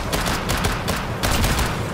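Rapid gunfire in Black Ops 3 custom Zombies, a dense burst of loud, close shots fired in quick succession for two seconds, with a few heavier cracks standing out.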